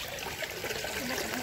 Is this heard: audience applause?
no